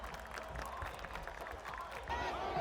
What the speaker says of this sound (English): Coliseum, raucous, crowd going crazy.